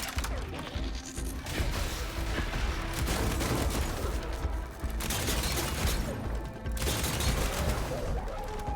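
Bolt blaster in Horizon Forbidden West firing continuous heavy bursts amid crashing impacts and mechanical clatter, loud and dense throughout with brief dips in the barrage.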